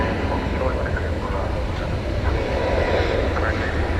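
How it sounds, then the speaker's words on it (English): An airplane on a flight to Spokane passes at DFW Airport as a steady, dense broadband rumble of even loudness across a few seconds, with no other distinct sounds standing out. "here goes the flight to Spokane"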